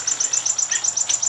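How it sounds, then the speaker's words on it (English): Birds shaken out of a tree chirp in a fast, even run of high, bright notes, close and steady, with no voices over them. "I shook every bird in the tree out."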